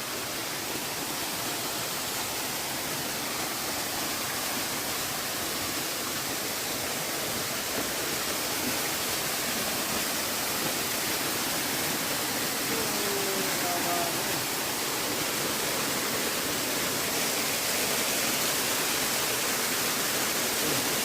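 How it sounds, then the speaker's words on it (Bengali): A waterfall beside a hill road, a dense, unbroken roar of rushing water that fills the whole stretch evenly and loudly. "আরেকটা ঝর্ণা।"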